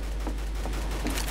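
A rapid burst of automatic gunfire in the game CS:GO on the Inferno map, a short, fairly distant volley with no talk over it.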